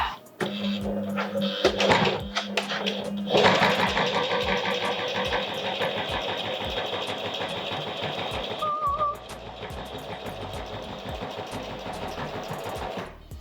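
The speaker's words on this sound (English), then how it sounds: "you can actually hear the motor like pushing the needle extra hard" A Singer Heavy Duty 4423 sewing machine motor hums and chatters rapidly as the needle drives, steady and close, with a brief pause and restart partway through.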